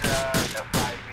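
Gunfire in GTA 4 during a toll booth shootout, with two quick bursts of shots a short moment apart, loud and close.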